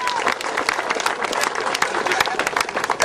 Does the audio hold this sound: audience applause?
yes